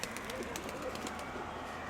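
Soft pigeon cooing, faint and somewhat distant, under a steady outdoor background hiss with no talking.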